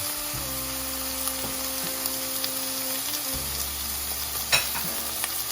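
Bulgogi beef hits hot oil and sizzles loudly and steadily, a close continuous frying hiss with a few pops and a brief clatter near the end, no talking.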